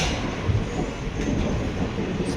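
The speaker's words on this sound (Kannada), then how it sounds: "ನಮ್ಮ ಟ್ರೈನ್ ಟೈಮಿಗೆ ಇದೇ ಟ್ರೈನ್ ಬಂದದ್ದು" A train sits at a crowded Mysore station, its low, steady mechanical rumble filling the platform with a faint rattle, continuous and fairly near.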